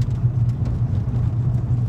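An oncoming car on a gravel road in the New Zealand countryside, a steady low rumbling engine and tyre roar, fairly close and continuous throughout.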